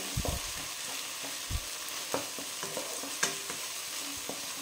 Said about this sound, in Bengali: আঁচটাকে স্লো করে এর মধ্যে মিশিয়ে দেবো আদা রসুনের পেস্ট। দিয়ে একটু নেড়ে নেবো।